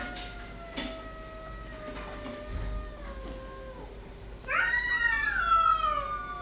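Several indoor cats meow at an outdoor cat, with drawn-out, wavering cries rising and falling through the first few seconds, then a louder, higher overlapping burst of meows near the end.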